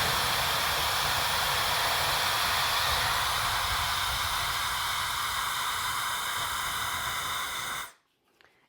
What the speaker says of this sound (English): It has a really strong blower on it on even medium.